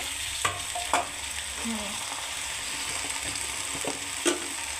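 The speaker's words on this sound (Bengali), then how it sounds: "এখন আমার পেঁয়াজটা হয়ে আসছে, এখন পাতাকপিটা ঢেলে দেব।" Onions frying in mustard oil before cabbage is added give a steady close sizzle, broken by several sharp spatula scrapes and taps against the pan. No one speaks.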